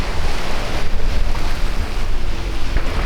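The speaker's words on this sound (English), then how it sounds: "And we are back sailing." Loud, constant rush of wind and waves against a sailboat sailing at sea, with buffeting gusts and no voices.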